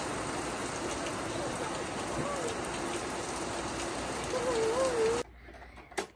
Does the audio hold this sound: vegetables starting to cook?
no